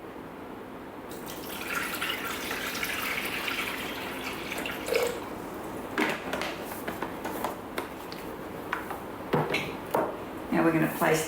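Water poured into a Thermomix mixing bowl in a kitchen, a steady running, trickling stream with splashy drips, under a woman's speech.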